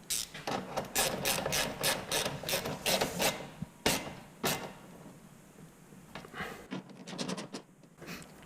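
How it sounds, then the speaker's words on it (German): Ratchet clicking in quick bursts as bolts are tightened on a Suzuki Jimny GJ bull bar, close and fairly loud, with brief pauses and some scraping metal handling between runs. "Und dann ziehen wir diese Schrauben als erstes an."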